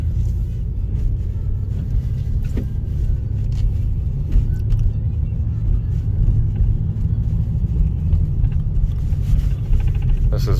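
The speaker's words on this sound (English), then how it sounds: "I don't know if you could tell how bumpy this road is, but it is bumpy" A car rolls over a bumpy road as a loud, steady low rumble from inside the cabin, with small knocks and rattles scattered through it and no voices.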